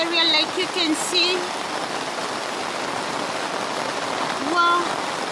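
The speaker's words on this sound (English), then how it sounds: "Heavy rain." Heavy rain pours over a flooded village area in a close, steady hiss, while a person speaks briefly at the start and again near the end.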